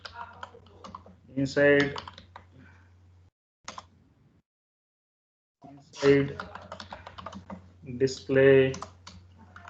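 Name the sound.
typing on a computer keyboard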